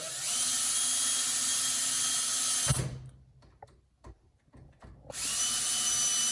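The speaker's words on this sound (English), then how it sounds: "now I'm going to finish tightening it with my drill" A cordless power drill whirs steadily for a few seconds while tightening a front-door smart lock screw, stops, clicks and rattles quietly, then whirs again at full speed.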